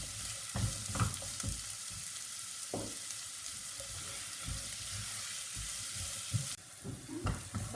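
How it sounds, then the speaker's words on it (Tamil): Onions fry with a little salt in a pan for egg puff masala, giving a constant close crackling sizzle broken by irregular scraping stir strokes, with no talking. "பார்த்தீங்கன்னா நல்ல வெங்காயம் வதங்கிடுச்சு"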